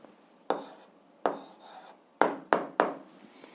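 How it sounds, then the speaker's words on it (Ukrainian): Pen strokes while an answer is written down for an 8th-grade algebra exercise come as five short scratching bursts spaced irregularly, close and fairly crisp against quiet. "зараз записуємо відповідь, пишемо відповідь"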